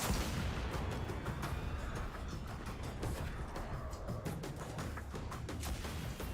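Scorch Cannon blasts in the shooter Destiny 2, a dense run of booming shots and rapid gunfire layered over a rumbling game mix, loud and continuous with no talk.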